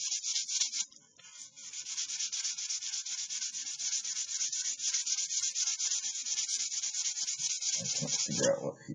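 Steady, close rubbing of sandpaper on a twig pot finished in Earth Green milk paint, continuous for most of the stretch, ending with a few soft knocks.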